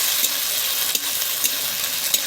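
Ground cumin, ginger, chili and garlic paste frying in oil, a dense, loud sizzle punctuated by a few soft scrapes of stirring, close up.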